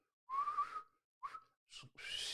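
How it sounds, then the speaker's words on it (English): A person whistles through pursed lips in a few short, wavering bursts with pauses between them, the last ones breaking into breathy air rather than a clean tone. "that was an awful whistle."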